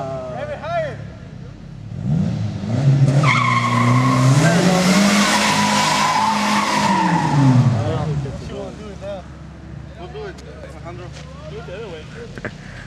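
A Ford Mustang SVO engine revs hard and its tires squeal loudly in a long rising skid that fades out, and people talk and shout around it.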